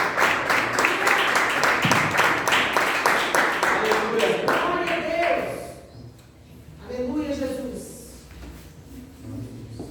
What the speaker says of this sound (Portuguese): louvando a Deus com nossas palmas, em forte.